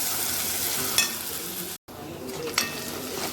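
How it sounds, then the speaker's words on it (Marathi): Onion with ginger garlic paste sautés in a pan, a continuous close sizzle with spatula stirring and a couple of scraping knocks, broken by a brief dropout midway. "थोडीशी आलं लसूणची पेस्ट त्याला व्यवस्थित आपण परतून घेऊया"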